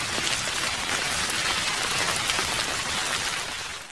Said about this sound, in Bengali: অমনি আবার বৃষ্টি ধেয়ে আসে।